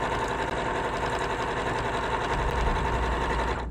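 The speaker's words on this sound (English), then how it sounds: "So now I'm just gonna sew." A sewing machine runs steadily, stitching fabric pieces that are held together with temporary glue instead of pins. The motor's loud, even whir carries without a break for several seconds, with no talking.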